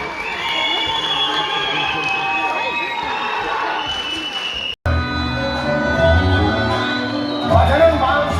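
An audience cheers and applauds as the Denizli Sarayköy sports club folk dance team is called to the stage, a crowd roar with shouts under an announcer's voice, cut briefly before continuing.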